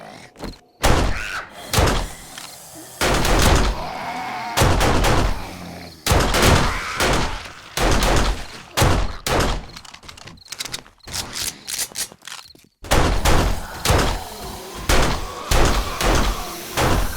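Heavy gunfire in the survival game 7 Days To Die, long loud bursts of rapid shots broken by short pauses, with repeated blasts across the whole stretch.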